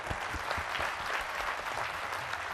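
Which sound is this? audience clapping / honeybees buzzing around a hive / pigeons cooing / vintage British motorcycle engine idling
audience clapping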